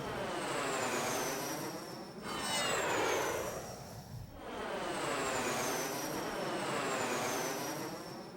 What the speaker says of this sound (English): Random plane noise.